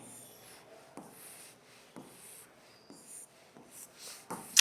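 Marker or chalk scratching across a board while labeling the heart's atria in an anatomy lesson, soft rubbing strokes broken by short taps, close and quiet with no talk.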